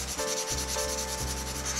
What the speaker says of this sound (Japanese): サンドペーパーかけることによって刃の部分が汚れてはきますけれども